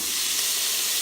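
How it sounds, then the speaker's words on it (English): Mirepoix vegetables for a homemade beef stew heat in a pot, giving a steady, close, unbroken sizzle and hiss throughout the short moment. "So right now we're just making a mirepoix. Gonna heat up these vegetables and get the flavoring come out."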